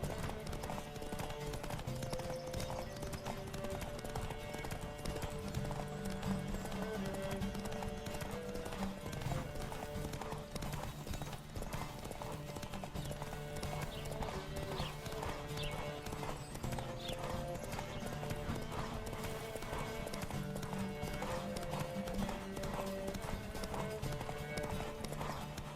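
Several horses galloping in a race in The Witcher 3, a fast, continuous clatter of hooves with an occasional whinny, under game music and faint voices.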